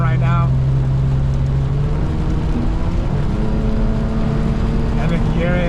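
A Lexus IS250 fitted with a valve muffler runs with a low, steady exhaust drone, its pitch dipping slightly as it settles, close by and continuous throughout.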